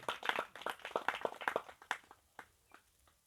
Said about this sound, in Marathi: सर्वांची इच्छा आहे, टाळ्या वाजवा दत्त मुनींसाठी